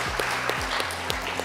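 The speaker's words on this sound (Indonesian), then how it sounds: "Kita kasih aplaus untuk rekan-rekan buruh." Applause for labour union representatives at a parliamentary commission hearing, a short burst of steady clapping from a group in a room, over low hum and faint talk.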